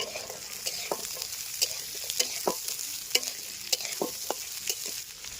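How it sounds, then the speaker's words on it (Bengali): Green peas frying in a pan for a Bengali vegetable dal: constant sizzling with a dozen or so sharp scraping knocks from a spatula as they are stirred. "বন্ধুরা এবার মটরশুঁটিগুলো ভেজে নেবো।"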